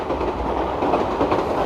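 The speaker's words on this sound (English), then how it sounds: "Oh, there's a train." A train passes beside a river path in Somerset, a steady, loud rumble with faint rhythmic clatter of the wheels throughout and no voices.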